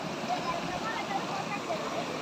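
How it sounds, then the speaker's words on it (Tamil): Meenmutti waterfall in Wayanad, Kerala, roaring as a steady, dense wash of falling water heard close and loud throughout, with no breaks or separate splashes. "ஸோ அருவியை லைவாக காட்டியிருக்கோம்."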